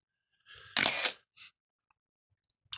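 A 1994 Canon EOS 1n 35mm SLR film advance motor whirs briefly in a mechanical burst, followed by a short second whir and a few faint clicks in otherwise quiet surroundings.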